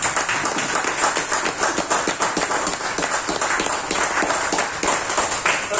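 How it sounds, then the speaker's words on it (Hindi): A seminar audience applauds heartily, a dense crowd of claps sustained for several seconds in a hall, with some murmuring under it. "एक जोरदार ताली हो"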